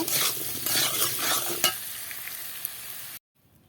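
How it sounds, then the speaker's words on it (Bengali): Cut potatoes fry with salt and turmeric, sizzling steadily in hot oil with close scraping stirs for about three seconds before the sound stops abruptly. "এই লবণ হলুদ দিয়ে আর একটু ভেজে নেব"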